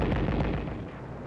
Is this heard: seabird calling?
no